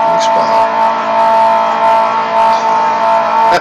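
Pagani Zonda supercar engine in the Gran Turismo racing game, a steady sustained drone with gentle swells, fairly loud and continuous throughout.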